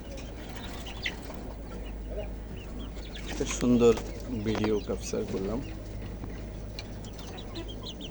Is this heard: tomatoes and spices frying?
no